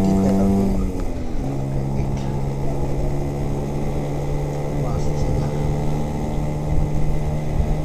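Engine drone of a Vespa scooter on the road, a steady low hum with a rising tone early on, heard from the rider's position with some background traffic.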